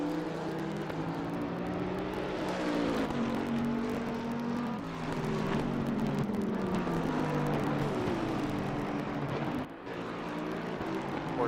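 A Porsche GT3 race car at Oulton Park in a racing game, its engine droning steadily and close up with shifting pitch through corners and chicanes, continuous throughout with a brief dip near the end.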